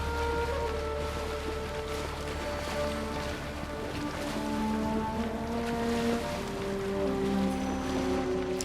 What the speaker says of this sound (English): Sailing down the Nile is just wonderful.